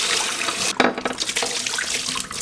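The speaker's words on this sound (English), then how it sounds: "now I'm going to rinse this guy out as best as I can" Tap water runs and splashes while a dirt bike hydration reservoir is rinsed in a sink. The flow is loud and close and shifts in pitch as the bladder fills and sloshes.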